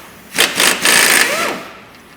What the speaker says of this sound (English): I'm going to air gun these 2 10mm off